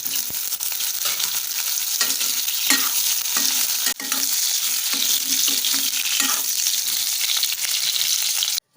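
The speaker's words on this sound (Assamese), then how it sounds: "তাৰপিছত তেলখিনি গৰম তেলতে মই আকৌ এতিয়া পটলখিনিও ফ্ৰাই কৰি ল'ম।" Pieces of pointed gourd fry in hot oil in a pan, giving a loud, steady close-up sizzle, broken now and then by stirring scrapes and ending abruptly.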